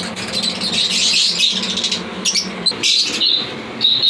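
Fischer's lovebirds and other pet birds in an aviary give a busy mix of high chirps and squeaky calls over a steady rushing background, close and fairly loud throughout.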